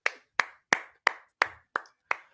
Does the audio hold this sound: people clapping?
yes